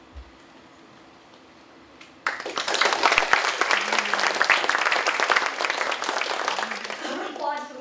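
Audience applause at a speaker series talk, breaking out suddenly and continuing as steady, dense clapping from a crowd, moderately loud with no pause.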